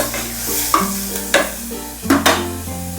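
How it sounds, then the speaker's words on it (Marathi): Onions sautéing in a pan for dal khichdi, a steady low sizzle broken by a few sharp scraping stirs of the spatula, close and fairly loud with no voices. "आणि मग कांदा टाकून घेऊ, छान परतून घ्यायचं।"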